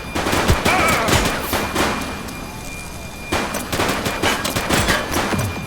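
Rapid bursts of gunfire from a police tactical shooter set in The Precinct, loud dense volleys and scattered shots overlapping with radio chatter and voices.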